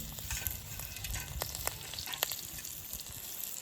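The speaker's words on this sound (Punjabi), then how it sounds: "ਚੀਜ਼ਾਂ ਨੂੰ ਬਿਲਕੁਲ ਹਲਕਾ ਜਿਹਾ ਆਪਾਂ ਭੁੰਨ ਲਾਂਗੇ ਫਲੇਮ ਹੈ ਜਿਹੜੀ ਬਿਲਕੁਲ ਹਲਕੀ ਜੀ ਰੱਖਾਂਗੇ" Soft, steady sizzle of spices and grated ginger lightly roasting in oil in a pan over a low flame, with occasional crackles and light stirring scrapes, quiet and close.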